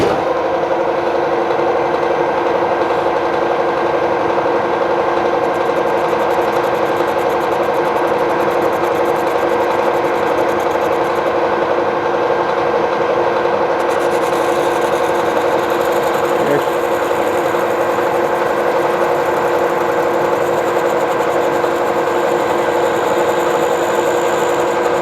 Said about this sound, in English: So hopefully you can hear me over the lathe.